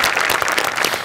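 An audience claps steadily at a Marathi comedy stage show, the applause dense and sustained throughout the short burst, with no voices over it.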